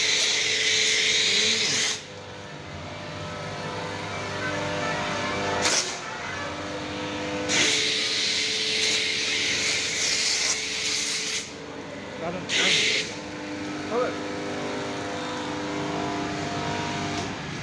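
A foam shampoo machine at a car wash hisses loudly as it sprays a car, in long bursts broken by short pauses, with a steady mechanical whine and talk over it.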